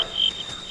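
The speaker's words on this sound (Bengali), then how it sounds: "চারপাশে ঝিঝি পোকার ডাক" Crickets chirp in a dark forest on a rainy night, a steady high trill running throughout, with a louder burst of sound at the very end.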